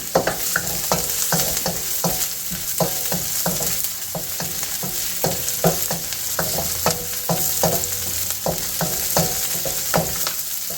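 The white parts of scallions sizzle loudly and steadily in a frying pan while making Thai basil shrimp, with a rapid series of scraping stirs running through the whole time.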